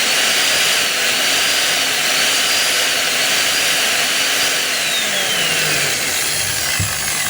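A DeWalt D25899 10 kg jackhammer runs continuously with a noisy gear case, giving a loud, harsh, unbroken mechanical roar and whine that fills the whole stretch. No voices are heard.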